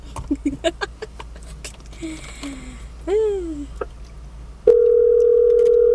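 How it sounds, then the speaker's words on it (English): A phone placing a call plays a short run of dialing beeps and a rising chirp, then a steady loud tone holds to the end, with faint talk underneath. "When my phone calls our special guest."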